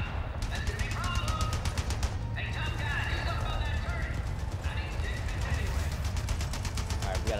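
Turret machine gun fire from Resident Evil 4 Remake rattles in long rapid bursts, loud and continuous, broken by a couple of brief pauses before resuming.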